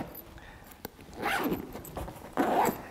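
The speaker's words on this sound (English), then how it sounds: "and sealing the zippers" Zippers on an emergency ballot bag are pulled shut, two quick rasping zips close by after a few light handling clicks, with no voice over them.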